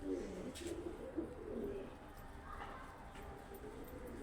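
A young pigeon coos softly in a few low, throaty phrases in the first couple of seconds, faint against a steady background murmur.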